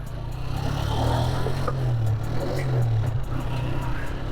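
A 1986 Honda CG125 motorcycle engine runs with a steady low drone and a mild rise in revs, holding at an even, moderately loud level for the whole stretch with no talk over it.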